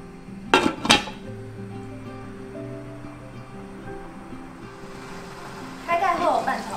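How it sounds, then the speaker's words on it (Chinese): A lid goes onto a cooking pot of vegetarian Taiwanese zhajiang noodle sauce simmering in water: two sharp metallic clinks close together, then quieter kitchen sounds under a talking voice, with another brief clatter near the end. "并盖锅熬煮5分钟。"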